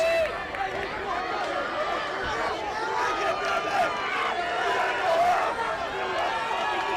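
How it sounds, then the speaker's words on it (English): A high school football crowd at the Class MM semifinal between North Haven and Wilton roars loudly and steadily throughout, with shouting voices blended into the noise. "Wilton's offense and Wilton's crowd is breaking decibel levels"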